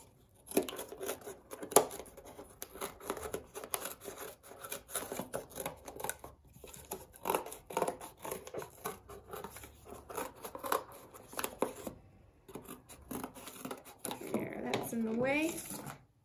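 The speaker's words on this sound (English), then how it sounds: "If you have a lot of extra cardboard, it's easiest to get around the curves by cutting off your extra pieces." Scissors snip through cardboard while cutting out paper sandals, with repeated irregular crunching cuts close by, interspersed with short pauses and paper rustling, and a person speaking at times.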